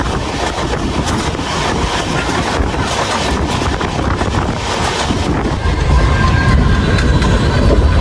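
Passenger train departing Balasore station in Odisha after a five-minute halt, a steady loud rumble with wind buffeting and a heavier low surge near the end.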